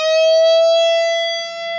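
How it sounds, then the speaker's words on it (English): A slow string bend on an electric guitar rings as one sustained, distorted note whose pitch rises only slightly, heard loud and alone for nearly two seconds. "If you just did a slow bend, it would sound like this."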